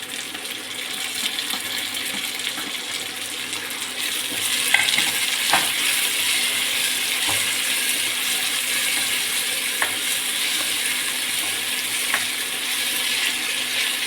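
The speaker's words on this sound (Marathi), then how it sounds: "फ्राय करून घेऊया टमाटर आपण टाकून घेऊया याच्यामध्ये" Tomatoes fry in a pan with garlic while a spoon stirs them. A continuous close sizzle is broken by a few scraping knocks, with no talking.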